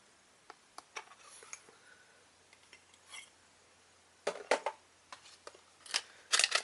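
Small scissors snipping the tape on the side of a Blazing Team Morph Master Tiger yo-yo box, a few sharp close clicks and snips, busier toward the end, with light handling of the box.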